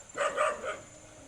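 A fierce farm dog barks three times in quick succession at moderate distance, short sharp woofs in an outdoor garden during a string bean harvest, with no talking over them.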